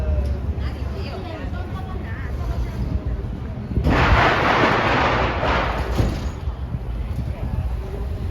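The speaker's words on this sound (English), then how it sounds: "Where did those firecrackers come from?" Firecrackers going off at a Lunar New Year celebration in San Francisco's Chinatown, a sudden loud burst of crackling pops from about four seconds in, ringing over crowd chatter and street noise that fill the rest.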